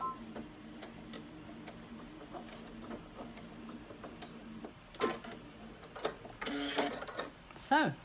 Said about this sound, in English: I'm going to sew all the way to the end again and then back tack again.